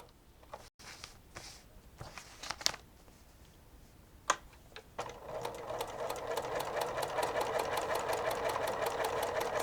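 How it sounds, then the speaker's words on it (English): A sewing machine stitches through paper. Some handling clicks and taps come first, then the motor starts a fast, steady, close rattle of needle strokes that runs to the end. "let's go ahead and take you to the sewing machine"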